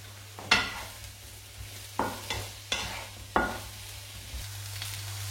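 Eggplants cook in a pan with a low, steady background hum, broken by five or six sharp scraping clatters of a utensil stirring against the pan.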